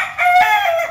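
A rooster on a Vietnamese chicken farm lets out a single loud, close crow lasting under a second, harmonic and slightly hoarse, with no talk over it.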